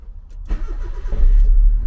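A car engine rumbles low and close, building from a faint hum to a heavy, steady drone within two seconds, with no voices.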